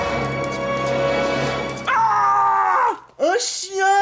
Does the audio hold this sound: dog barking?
yes